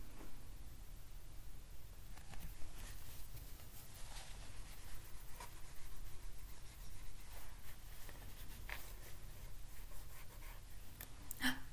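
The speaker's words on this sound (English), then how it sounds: "This time I'm going to erase two letters." Quiet scrubbing strokes of a board eraser wiping letters off a classroom board, a series of soft rubbing swipes over several seconds with faint background hiss and no talking.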